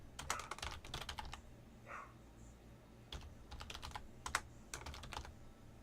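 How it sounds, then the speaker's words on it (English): Quiet typing on a computer keyboard comes in several quick bursts of rapid key clicks with short pauses between them. "And then what I'll normally do is I will start typing my message."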